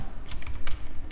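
Brief burst of typing on a computer keyboard: a few quick, close, crisp key clicks in a short irregular run, with no talk.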